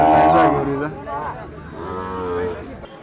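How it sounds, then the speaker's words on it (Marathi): A Khillar cow at a cattle market gives a loud, drawn-out moo followed by a second lowing call, with faint crowd chatter in the background. "बघून घ्या इथे गाय"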